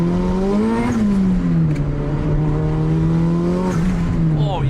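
A turbocharged Honda Civic rumoured at 400 horsepower accelerates hard, its engine note rising through a gear, dipping at a shift, then climbing again, loud and close from inside the car.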